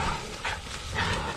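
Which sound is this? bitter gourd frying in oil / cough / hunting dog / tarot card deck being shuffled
hunting dog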